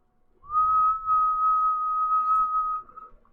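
One person whistles a single steady high note for about two seconds, close and clear, with faint low rumble underneath, imitating a train whistle.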